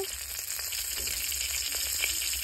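Two green chillies and whole cumin seeds sizzle in hot oil left over from frying paneer, giving a continuous crackling fry with small pops and spits, fairly close, with no talk.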